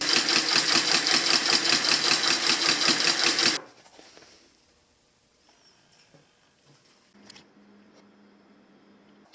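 A Consew 223R sewing machine fitted with a right angle binder stitches in a fast, loud, even rhythm up close, then stops abruptly, leaving faint handling clicks and rustles.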